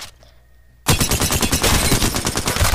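Automatic gun in Apex Legends fires a loud, rapid continuous burst after a brief quiet moment, the shots packed into a steady rattling stream until the end.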